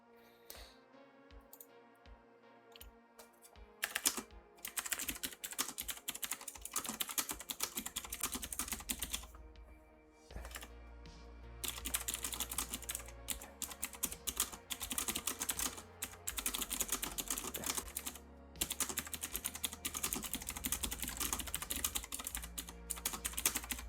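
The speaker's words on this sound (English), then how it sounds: "How loud is my mechanical keyboard for you folks?" Fast clattering keystrokes on a mechanical keyboard fill the scene, running in long dense bursts with brief pauses near the start and around ten seconds, close and fairly loud with no talking.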